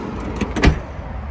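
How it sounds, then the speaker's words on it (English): A soft-close sliding door on a 2022 VW California Ocean T6.1 van is shut a little too hard, giving a single muffled thud with a short mechanical whir just before it, close by and without talk. "Say soft closed door,"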